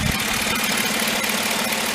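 A 1999–2007 Chevrolet Silverado engine idling just after a coolant tank replacement, warmed up with the thermostat open: a steady, even low rumble with a mild ticking knock, close by and uninterrupted.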